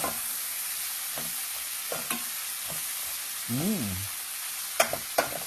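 Onion, garlic and butter sizzle in a pan for garlic butter shrimp, a steady hiss with intermittent spatula scrapes and taps and a brief squeaky rising-falling sound midway, no speech.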